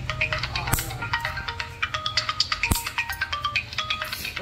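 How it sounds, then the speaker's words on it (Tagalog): A mobile phone ringtone plays indoors, a repeating electronic melody of bright pulsed tones, fairly loud and steady, with voices faintly in the background. "Viviana, ang cellphone."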